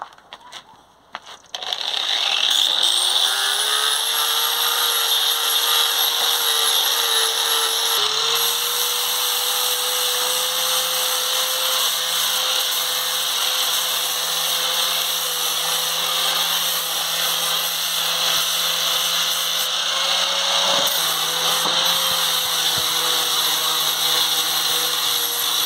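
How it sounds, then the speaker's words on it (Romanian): An angle grinder runs continuously with a loud, high whine as it smooths leftover formwork edges on a cast concrete table, the pitch dipping slightly under load partway through. "Acum cu flexul voi finisa puțin marginile acestea care au rămas de la decofrare."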